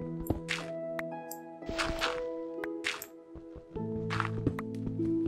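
Watery splashes and drips come from a video game, mixed with clicky thuds and sustained synthetic tones. They arrive in bursts over a looping musical background and stay fairly faint.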